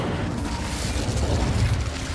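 Fire spell cast in Hogwarts Legacy, a steady roaring, rumbling whoosh of flame that holds loud and even throughout without any break.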